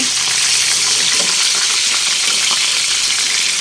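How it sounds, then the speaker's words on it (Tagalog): Tilapia frying in hot oil gives a steady, close, crackling sizzle that holds for the whole stretch, with no one talking. "At titinan ko na po yung niluluto ko, yung piritong tilapia."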